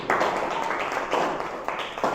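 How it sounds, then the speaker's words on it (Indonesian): A classroom of students applauds the groups that presented, a dense burst of many hands clapping close and loud, swelling in uneven waves across the short stretch. "sekali lagi tepuk tangan untuk semua kelompok yang sudah tampil"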